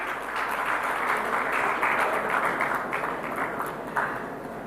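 Applause from the audience at India Maritime Week 2025 in Mumbai: a steady, fairly close wash of many hands clapping that holds for several seconds and then tapers slightly.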